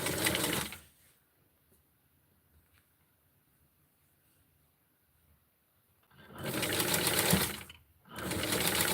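A sewing machine stitches a t-shirt in two loud, steady runs of rapid mechanical whirring, at the start and again near the end, with near silence between and a brief pause inside the final run.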